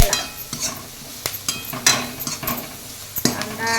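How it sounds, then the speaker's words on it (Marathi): Onion and curry leaves roast in a kadhai with a soft sizzle, broken by repeated scraping stirs and sharp clacks of a spatula against the metal pan at an uneven rhythm, heard up close. "आता हे लाल होईपर्यंत कढईमध्ये भाजून घ्यायचं"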